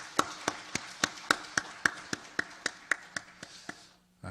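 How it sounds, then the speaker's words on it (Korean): Slow, evenly spaced handclaps in a church congregation during a special evening worship service, about sixteen sharp close claps at a steady rhythm that gradually weaken before stopping, with no talk over them. "그래서 하나님께 우리 영광의 박수를 한번 올려드렸으면 좋겠어요."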